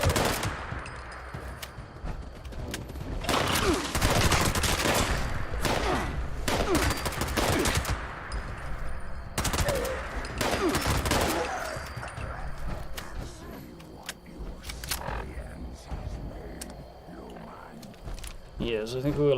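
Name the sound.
gunfire in video game Fallout 76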